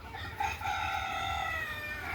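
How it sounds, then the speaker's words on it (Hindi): Golden desi hen on a poultry farm giving a sustained clucking, crowing-like call among other fowl, with steady farmyard noise underneath throughout. "ये जी हमारी गोल्डन मुर्गी।"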